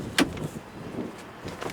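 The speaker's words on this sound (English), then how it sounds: "I'm going to open the back door too." The back door of a 1998 Jeep Grand Cherokee is opened, with a sharp latch click at the start followed by a soft rustle and a faint second thump, heard close up with no talking.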